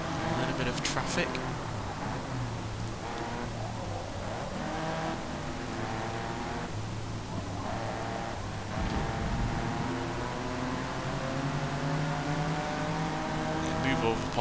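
Forza Motorsport race cars, a Pontiac among them, roar through traffic in a continuous loud engine drone. Pitch climbs and drops with each shift, and someone talks over the racing.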